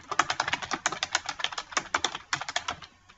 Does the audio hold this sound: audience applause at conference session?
no